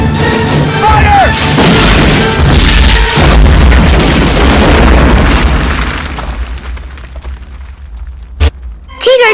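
Heavy booming cannon blasts, loud and close, followed by crashing debris that trails off into a quieter rumble.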